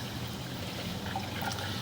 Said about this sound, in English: The water's making it through